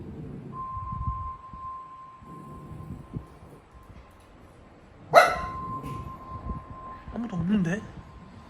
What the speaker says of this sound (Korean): 뭐가 있다고 짖어?